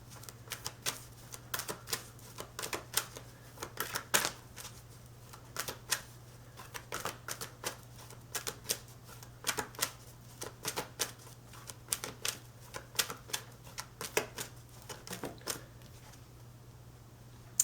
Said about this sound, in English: So let me go ahead and shuffle that out for you